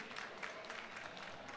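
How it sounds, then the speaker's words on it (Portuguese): Faint audience applause rises at a stage talk at an entrepreneurship event in Brasília, a soft, steady patter of clapping throughout with no speech. "Palmas para a nossa querida convidada, Mona."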